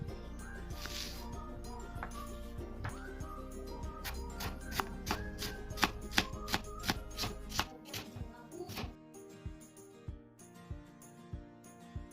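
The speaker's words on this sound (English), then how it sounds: "4 medium onions finely chopped" Knife finely chopping onions for a samosa filling on a board, a fast run of crisp close taps that slows into separate, sharper chops toward the end, with no voices.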